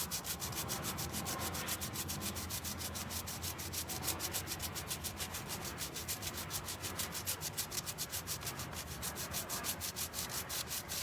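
Sandpaper rubs back and forth on a table surface in quick, steady strokes, a close, rhythmic scratching that repeats evenly without pause and with no voices.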